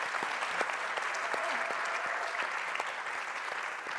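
Audience applauding panellists at a new energy event, steady dense clapping throughout with a few sharper individual claps standing out and faint voices murmuring underneath.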